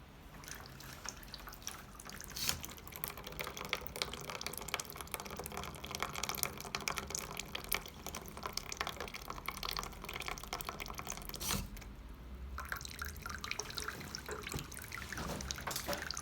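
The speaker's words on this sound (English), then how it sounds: "the water barrel is going to dispense a specific amount of water into the water barrel" An automatic pet feeder dispenses water into its water barrel, producing a continuous close trickle and dripping over about sixteen seconds, with a short mechanical pause midway and no talk.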